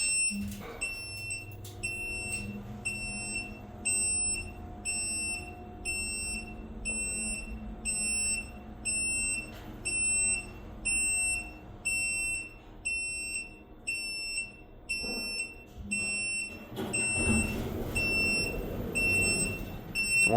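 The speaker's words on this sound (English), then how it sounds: "upon turning it off, it will sound the alarm" An elevator's fire service alarm in a Schindler 3300 during a monthly Phase 1 and 2 fire service test sounds as a steady pulsing high beep repeating through the whole stretch, with some rumbling and clatter underneath.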